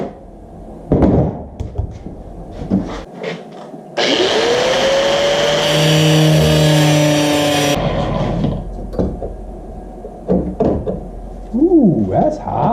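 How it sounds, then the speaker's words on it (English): Sheet metal being cut into a strip for a bracket: a loud, steady grinding or cutting whine with tonal harmonics lasts about four seconds, framed by clanks and handling noise before and after. "going to cut out this strip here, and this is what we're going to make the bracket out of."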